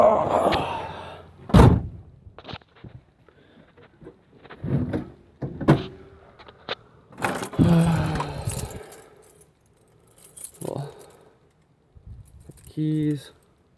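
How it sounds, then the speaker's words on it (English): Keys jangle and clink amid door thumps, slams and handling noises inside a 1978 GMC VanDura class C motorhome, coming in scattered close bursts with a voice speaking between them. "Dig out my keys."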